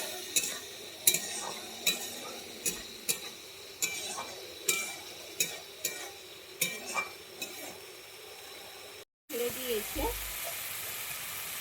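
A spiced mixture with a splash of water being stir-fried in a pan until the oil separates, for a prawn and mushroom dish: a regular run of about a dozen spoon scrapes and knocks over a low sizzle, then a brief break.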